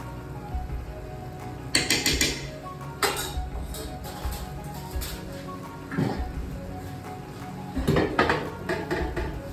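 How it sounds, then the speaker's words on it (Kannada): A flat tawa griddle set down beneath a cooking pot of vegetable pulav for dum, giving a few clanking metal knocks and scrapes spread across the span, fairly close, with no talking. "ಈಗ ಇದರ ಅಡಿಗೆ ತವಾ ಇಡ್ತಾ ಇದ್ದೀನಿ ದಮ್ ಮಾಡಲಿಕ್ಕೆ."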